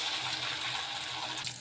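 Water is poured into a mixie grinder jar and a cooking pan in a home kitchen, producing a steady, close gushing splash for under two seconds with a brief extra splash near the end and no talking.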